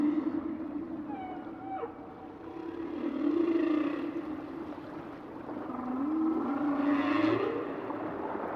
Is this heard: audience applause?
no